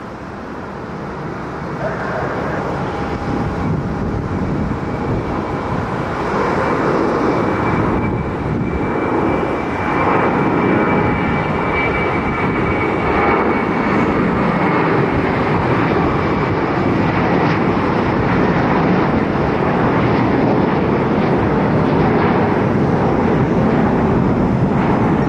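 JetBlue jet airliner in Brooklyn Nets special livery taking off at Fort Lauderdale, a steady broad engine roar building and holding loud throughout, heard from a distance with some wind noise.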